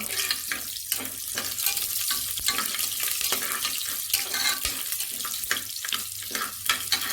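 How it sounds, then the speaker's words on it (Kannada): Oil tempering with chopped green chili in a pressure cooker sizzles and crackles steadily, a loud close broadband hiss with small popping spatters and no talking. "ಸ್ವಲ್ಪ ಕುಕ್ಕರಿಗೆ ಎಣ್ಣೆ ಹಾಕ್ಕೊಂಡು ಒಗ್ಗರಣೆ ಕೊಡ್ತಾಯಿದ್ದೀನಿ"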